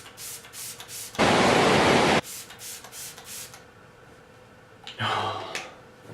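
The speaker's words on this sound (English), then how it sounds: "Spray everywhere on the glam side just to get that refreshing moment." Smashbox Photo Finish primer water mists onto a face in one long close hissing spray burst, followed later by a shorter, softer second spritz amid quiet handling noises.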